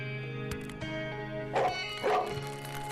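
A dog barks and yips in the Dark and Darker video game, a few short bursts over steady game music and ambience, moderately close with no talking.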